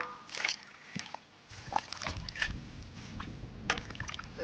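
Chunks of yellow-fat beef ribs go into a pot of water in a pastoral Inner Mongolian kitchen, giving several soft, scattered sloshes and plops at close range, quiet overall.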